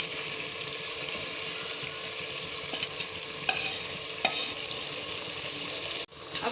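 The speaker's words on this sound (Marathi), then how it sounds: "आपण आता ह्याला मिक्स मिक्स मिक्स मिक्स करूया, व्यवस्थित सगळं मिक्स करूया।" Marinated paneer and softened tomatoes sizzle in an oily pan, a continuous close frying hiss with a couple of sharp utensil scrapes as everything is mixed, ending abruptly, with no talk.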